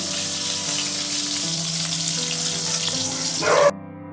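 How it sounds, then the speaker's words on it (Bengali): Slices of home-grown eggplant fry in a pan with a steady, loud sizzle that holds throughout, swelling briefly near the end before cutting off. "এখানে ভাজছি বেগুন ভাজা"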